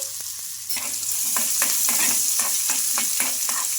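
Finely chopped onions fry in oil with roasted dals in a pan, a continuous bright sizzle broken by a regular series of spoon stirs and scrapes, close and fairly loud.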